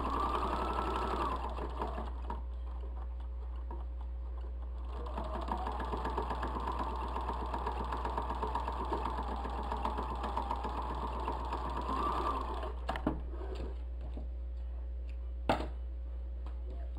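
A sewing machine stitches fabric along a crease with a continuous, fast mechanical whir and hum lasting about twelve seconds, then stops, followed by a few faint clicks and handling noises.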